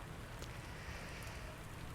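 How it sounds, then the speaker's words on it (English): Soft, steady rainfall on a rainy day in the video game Synergia, a faint continuous patter with scattered drops and no other sounds. "There is nothing as nice as a rainy day."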